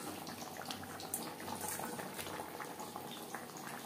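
Fish curry of fried tilapia with potatoes simmering in gravy in a pan, giving a steady close bubbling and gentle sputter that runs evenly throughout with no talking.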